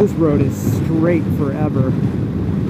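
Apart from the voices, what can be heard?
strong wind blowing while riding on highway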